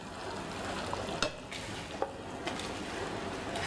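Steamed eggplant stirred into chilli sambal in a pan after the heat is off, with soft wet stirring, a faint sizzle and a few light clinks of a utensil against the pan.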